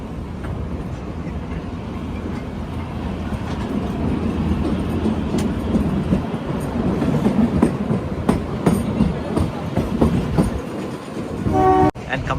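Old toy train in a railway shed, rumbling and clattering continuously with rising loudness, scattered metallic clanks, and a short horn-like tone near the end.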